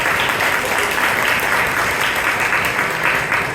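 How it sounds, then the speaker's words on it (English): A crowd at a Toastmasters club meeting in Bangalore applauds with steady, dense clapping that holds at an even, fairly loud level from start to finish. "Give him a big round of applause."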